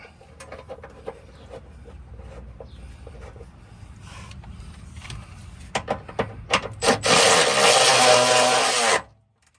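A power wrench tightens fasteners on the rear sway bar of a Mustang: a few scattered knocks and clicks, then a sharp burst of ratcheting, and finally a loud, sustained whir lasting about two seconds, close up, with no talking.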